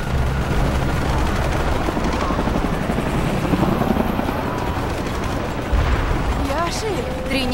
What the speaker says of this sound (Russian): Еще вертолет.